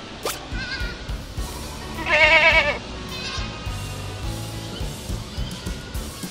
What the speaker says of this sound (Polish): Kozy siedzą w swoich zagrodach.